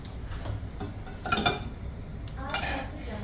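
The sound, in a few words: mixing taco casserole ingredients in a dish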